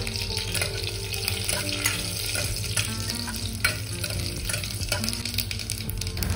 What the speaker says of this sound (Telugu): నెయ్యి వేడయ్యాక ఇందులో 1 టీ స్పూన్ ఆవాలు వేసుకోవాలి.